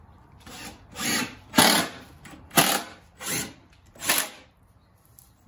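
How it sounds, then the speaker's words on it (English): A power drill bores into wood in a garden, revving in about six short, separate bursts close by, each rising and then dying away between pauses. "this drill is the best."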